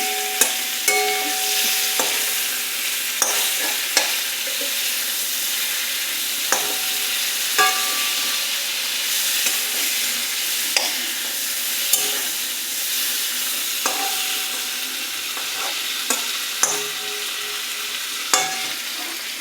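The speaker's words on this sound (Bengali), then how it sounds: "ইলিশ মাছ ভাজছি।" Hilsa fish fries in hot oil in a pan, a steady close sizzle and hiss with intermittent clicks and scrapes of stirring and turning every second or two, no voices.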